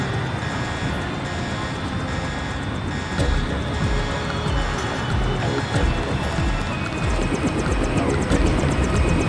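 A helicopter's rotor thrums steadily throughout in the video game Deus Ex, a loud continuous mechanical drone with occasional louder surges.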